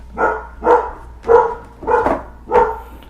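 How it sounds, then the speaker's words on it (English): Indoors, a dog barks five times at an even, steady pace at someone arriving home. The barks are clear, moderately loud and set slightly back in the room, with no talking over them. "I don't know if you guys can hear the dog barking."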